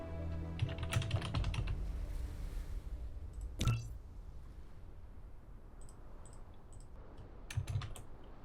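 Fast, steady clatter of a computer keyboard being typed on during a Dyson Sphere Program session, close and dry, with a brief pause in the middle and a few scattered later keystrokes.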